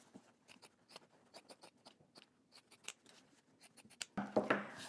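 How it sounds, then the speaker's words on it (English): Sewing scissors trimming the seam allowance on fabric, a close series of quiet crisp snips in an irregular rhythm, followed by a brief rustle of handled fabric at the end. "I'm going to go ahead and trim most of my seam allowance"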